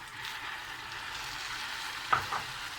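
Garlic and chopped tomatoes sizzle steadily in a hot pan, a constant crackling hiss with a couple of brief scraping stirs near the end.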